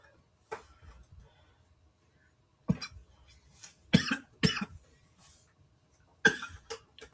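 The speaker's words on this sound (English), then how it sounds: "sorry, I was coughing" A person coughs several times in short, separate bursts, close to the microphone in a quiet room, with faint breathing between them.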